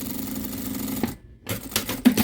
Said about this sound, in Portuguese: Eu primeiro costuro só o zíper